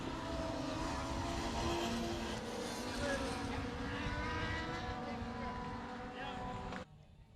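Dwarf race cars roar out of turn four on the final lap at South Texas Speedway, a loud, sustained engine drone that holds steady for several seconds, then cuts off abruptly near the end.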